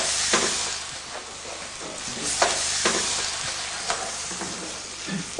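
Tomatoes sizzle in a hot pan of sauce mix, a steady close frying hiss broken by periodic scraping stirs.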